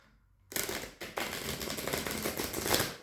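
A deck of oversized tarot cards is shuffled by hand in a rapid, crisp flurry of riffling clatter that runs nearly continuously and close to the listener.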